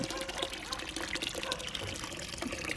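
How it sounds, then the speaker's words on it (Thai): Water pours steadily into a flower pot made from a car tire, a continuous close splashing rush that stays even and loud throughout. "เปิดน้ำใส่ให้ดูนะครับ"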